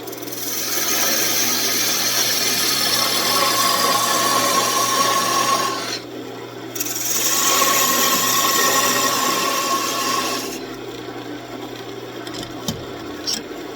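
Wood on a lathe being cut with a plunge cut, a steady rasping, scraping hiss that runs continuously, breaks off briefly, resumes, then stops near the end.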